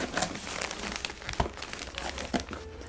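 A cardboard mystery box being opened with paper crinkling inside: close, busy rustling and crumpling with a few sharper crackles, no talk.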